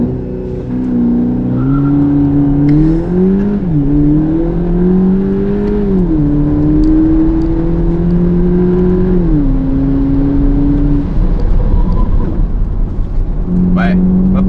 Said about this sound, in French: Je refais un petit launch control